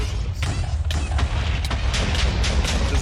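A machine in the Minecraft modpack FTB Skies sets off game explosions, a dense run of deep booms and thuds layered one over another, loud and continuous.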